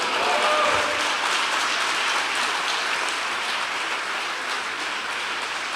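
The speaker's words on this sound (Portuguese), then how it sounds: "dá um forte aplauso para Jesus" A conference congregation in a church breaks into sustained applause, a thick, continuous roar of clapping from many people that stays loud and steady from start to finish.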